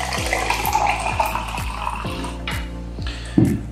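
About 200 ml of water is poured into a container holding a drink powder, making a steady splashing trickle with a regular, rhythmic gurgle, fairly close and loud, with a brief clink near the end.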